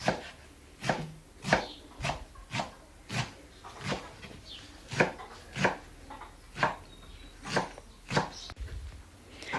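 Steady knife chopping of sorrel on a cutting board, about fifteen crisp close strokes at an even rhythm, with no talking.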